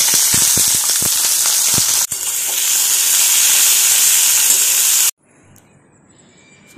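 Potatoes dropped into hot oil with dried chili and panch phoron sizzle loudly in a steady, close hiss for about five seconds, then the sound cuts off abruptly to near silence.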